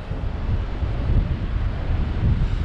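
Water rushing into a beck fed by a big swollen flow on an open Cumbrian hillside, a steady broadband roar close by under gusting wind noise, with no voices.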